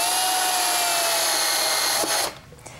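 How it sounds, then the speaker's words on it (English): A power drill drives screws to attach a hinge on a fireplace mantel, a loud continuous high whine that stops abruptly near the end. "now let me just attach this hinge with these screws"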